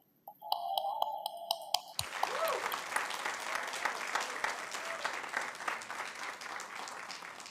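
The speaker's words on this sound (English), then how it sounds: "Let's give them another round of applause." A large audience applauds youth mariachi performers at a Hispanic Heritage celebration. After a brief tonal passage, loud, dense, sustained clapping begins and continues steadily to the end.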